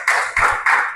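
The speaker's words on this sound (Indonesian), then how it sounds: "Tepuk tangan untuk" Students in a school lesson clap together for the jury in three sharp, evenly spaced unison bursts, loud and close with no talking.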